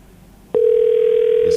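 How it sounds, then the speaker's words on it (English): A telephone line clicks open and then a steady, loud dial tone hums without a break while a morning radio show calls a contest winner in a Christmas promotion. "We're hearing the dial tone."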